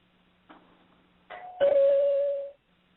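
A doorbell rings early in the morning in a home: a soft tap, then a clear, loud two-tone chime with a sustained ringing tone that fades out.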